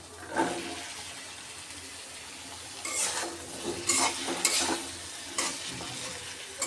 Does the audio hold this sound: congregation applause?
no